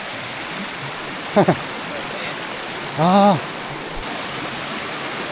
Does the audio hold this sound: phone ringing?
no